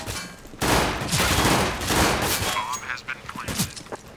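Glock-18 burst fire in CS:GO gameplay: rapid clusters of loud gunshots burst out one after another over about three seconds, dense and close, with game effects mixed in.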